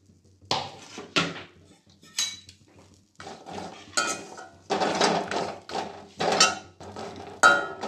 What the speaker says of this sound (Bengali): আমি মাছগুলোকে শুকনো খোলায় নেড়ে নিচ্ছি